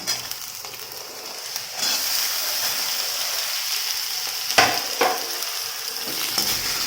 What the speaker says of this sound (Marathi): बारीक चिरून घेतला तो आता ह्या फोडणीत घालायचा